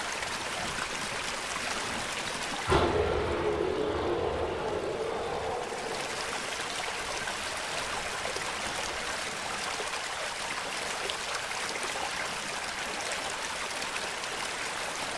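Water in The Classrooms surges in with a sudden splash, then settles into a steady, moderately loud rushing flow as the level rises, continuous throughout without talk.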